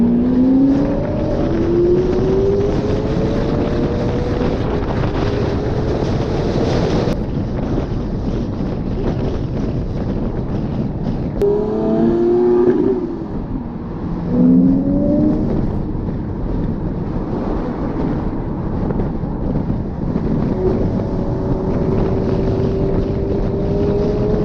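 A Lamborghini Aventador SVJ engine rumbles loudly throughout, with rising and falling revs as the supercar shifts, wind buffeting heavily over the sound and short bursts suggesting overrun pops on downshifts.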